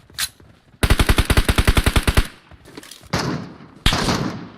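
Gunfire in PUBG Mobile: one shot, then a loud rapid burst of about fifteen automatic rounds, followed after brief pauses by two more sharp, noisy blasts, all close and dominant.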